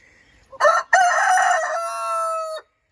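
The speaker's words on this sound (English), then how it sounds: "There's a rooster that likes to hang out here" A rooster near a chicken coop crows once, loud and close, a long harmonic call rising and then holding a steady drawn-out note before cutting off.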